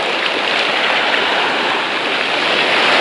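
Sea waves wash onto the beach at Adler in Sochi, a constant broadband surf roar at close range that rolls on evenly without any voices over it.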